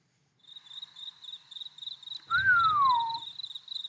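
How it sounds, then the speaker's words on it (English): A crickets sound effect plays as a steady, rhythmic chirping pulse, close and fairly clear. A sliding whistle-like tone cuts in briefly near the end. "Crickets."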